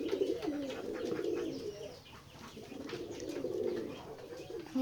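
Several pigeons coo in repeated low, throaty phrases at a village pigeon loft in Betikhola, Keshabpur, Jessore, steady and moderately near over faint background hiss, with no talking.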